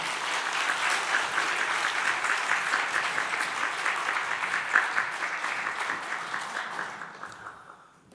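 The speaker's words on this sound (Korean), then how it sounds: "윤무씨 목사님 나올 때 큰 박수를 한번 맞이하겠습니다" A church congregation applauds as a pastor comes forward to speak, steady dense clapping filling the room for about seven seconds before tapering off at the end.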